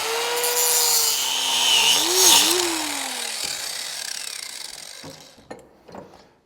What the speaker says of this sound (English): But just go ahead and cut a slot in it.